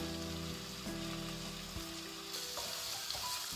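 Shallots, green chilies and tomato frying in oil for beef roast, a continuous soft sizzle with occasional scraping stirs, fairly quiet and without talk.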